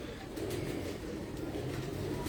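A pigeon cooing softly up close, a low throaty burbling call repeating over a short stretch with background noise.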